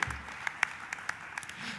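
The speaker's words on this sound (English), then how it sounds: "your applause can be continuous" An audience applauds to welcome Team Parallax onto the stage at an app challenge grand finale: a steady, fairly distant wash of clapping with a few sharper individual claps standing out.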